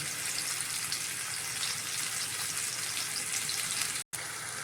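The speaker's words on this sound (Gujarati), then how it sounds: "તેને હવે 2 મિનિટ માટે સાતળવાનું છે." Steady frying sizzle of paneer sautéing in a pan, a continuous hiss with faint crackle throughout and a brief dropout near the end.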